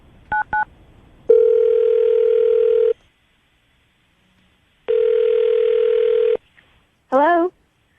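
Telephone tones while placing a call: two quick beeps, then two long steady dial tones separated by silence, followed by a short warbling voice-like sound at the end.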